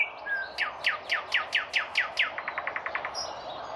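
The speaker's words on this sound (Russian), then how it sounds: "Почему так изменилось соловьиное пение?" A nightingale sings alone and close: a quick series of sweeping whistled notes followed by a rapid, even trill.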